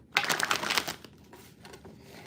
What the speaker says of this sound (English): This deck likes to be shuffled just a little differently